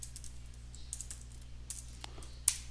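Keys tapped on a computer keyboard while a notebook title is typed, a quiet run of light, irregular clicks ending in one sharper keystroke.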